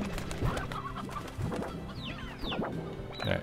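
Chickens cluck and squawk in the video game Slime Rancher, a steady scatter of short cackles and chirping calls repeating over a low background, moderately close and fairly quiet.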